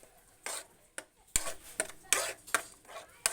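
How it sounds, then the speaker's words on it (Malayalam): Chana masala being stirred in a pan, with a series of sharp spoon scrapes and clinks against the metal at an uneven pace, close and fairly quiet, with a soft sizzle between strokes and no talk. "ഇനി നമുക്ക് നല്ലപോലെ ഇളക്കി കൊടുക്കാം."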